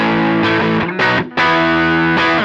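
Electric guitar through a Tube Screamer overdrive on an HX Stomp, with loud driven chords that ring, briefly choke, then sustain again, heard alone up close.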